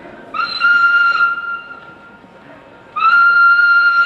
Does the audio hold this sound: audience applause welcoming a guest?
no